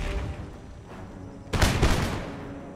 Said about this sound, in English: With our musket shots from the back